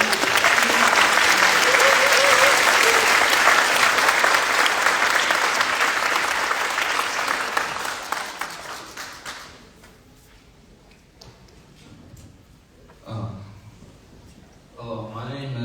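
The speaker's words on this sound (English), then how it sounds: "can we please give a round of applause for both our candidates" A youth candidate forum audience claps loudly and steadily for both candidates, a dense sustained burst that fades out over several seconds, leaving scattered claps and room noise.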